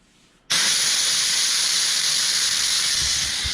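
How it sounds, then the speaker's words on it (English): An Instant Pot vents steam through its valve after cooking a red curry with cod, eggplant, red pepper and coconut milk: a sudden loud, steady hiss bursts on and keeps rushing without letup. "So that's all the steam that's been cooking this curry."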